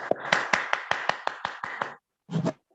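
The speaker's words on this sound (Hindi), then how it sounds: "मैडम के लिए जबरदस्त ताली होना चाहिए" Applause for a speaker in a Zoom meeting: a single pair of hands claps about ten times in steady rhythm, close and crisp, then a brief pause and two more claps.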